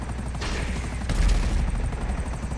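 Helicopter in the video game Grand Theft Auto V, a steady rotor chop and engine roar mixed with bursts of gunfire, loud and continuous throughout.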